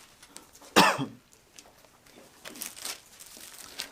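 One sharp, loud cough stands out in a quiet room, followed by a few fainter rustles and small throat sounds.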